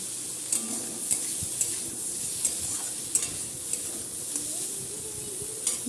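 Papaya and soybean fry gently in a pan, a soft sizzle running under regular taps and scrapes of a stirring spoon that click against the pan.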